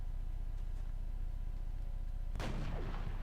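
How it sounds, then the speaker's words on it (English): A sniper rifle shot in the turn-based strategy game XCOM: The Long War cracks out as one loud, abrupt report near the end, following a steady low background hum. "the first thing that we could do is shoot with our sniper against the overwatching guy"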